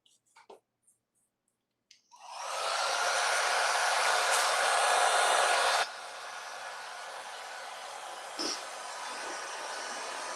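A hair dryer blows on the wet edges of craft paper for a recipe box, starting after a few faint clicks and running as a steady, loud whoosh that drops slightly partway through.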